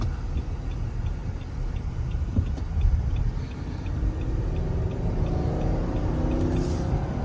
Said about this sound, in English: I love nothing more than a naturally aspirated V8.